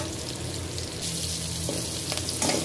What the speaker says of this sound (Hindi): प्याज को, बस लाइट ब्राउन होने देना है। हाई फ्लेम पे करेंगे ना तो ये बहुत जल्दी हो जाएगा।